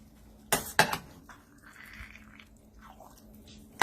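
Spoon knocks against a cooking pot while spinach and agushi stew with egg is stirred, two sharp close clanks early, then a quiet soft scraping stretch.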